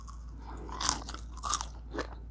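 Crunchy air-fried masala Maggi potato fries being bitten and chewed, with three loud crisp crunch bursts spaced evenly over a steady low hum, close up and with no talking.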